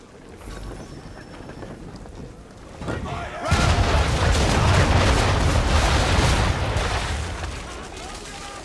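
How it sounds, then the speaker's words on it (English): A ship's cannons fire a broadside in Assassin's Creed 3, a sudden heavy booming blast that rolls into a sustained loud rumble and crackle before slowly fading, following quieter ambient sea noise. "Bring around broadside, and when all guns are on target, call fire."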